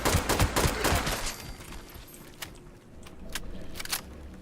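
Gunfire in Fallout 76: a quick burst of rapid loud shots in the first second and a half, then a quieter stretch with a few scattered sharp cracks, all fairly close with no talking.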